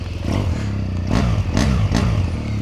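A BMW R1200GS motorcycle engine pulls away and accelerates, a steady low rumble rising in a few surges of revs, close up and continuous with no talk.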